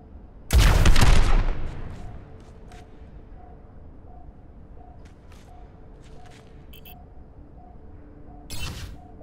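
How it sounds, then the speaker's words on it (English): A single loud burst of Helix rockets fired in Overwatch hits targets early on, then fades into a quiet hum with a few faint clicks and a smaller blast near the end. "Fire your helix rockets at the targets."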